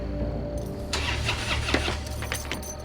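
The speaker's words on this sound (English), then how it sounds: "On that night, he couldn't start his car." A car engine cranks and turns over without catching, a starter whirring in short strained bursts at close range, with the engine sputtering but never settling into a run.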